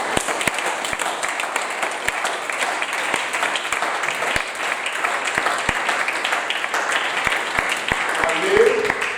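A church congregation applauds continuously, a steady wash of many hands clapping with sharper individual claps standing out, and voices mixed underneath.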